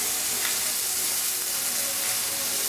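Plantains fry in a pan, a dense, loud, continuous sizzle that holds steady throughout with no talk.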